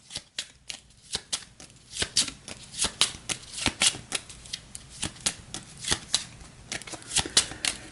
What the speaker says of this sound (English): so we'll give the reserve a shuffle